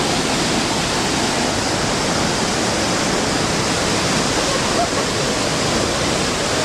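Mambukal Seventh Falls in Murcia, Negros Occidental roars as a steady, loud rush of falling water, a broad unbroken hiss close by with no pauses or voices.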